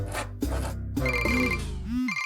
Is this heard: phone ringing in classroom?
yes